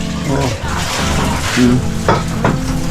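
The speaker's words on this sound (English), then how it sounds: "What kind of rice we have on fire over here?" Rice frying in a hot pan while being stirred, a loud close sizzle with scraping utensil strokes and a couple of sharper knocks against the pan.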